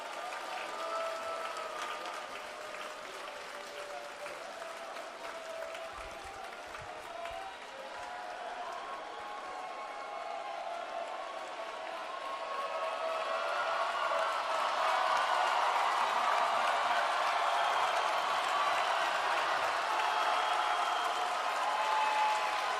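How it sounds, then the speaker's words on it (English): Fans at the 2022 Division III men's volleyball national championship applaud the Springfield Pride runner-up team, with a distant, diffuse crowd clapping and cheering that grows louder halfway through and then holds steady. "Fans, let's have a round of applause for the Springfield Pride, the 2022 Division III Men's Volleyball National Runner-Up."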